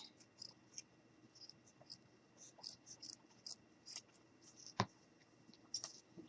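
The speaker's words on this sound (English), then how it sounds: "we're just going to go ahead now and cut our felt" Quiet, close snipping and scratchy rustling of scissors cutting through felt, in short irregular cuts with one sharper click near the end.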